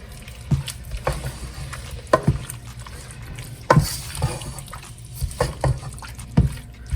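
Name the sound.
tossing beef in seasoning and grapeseed oil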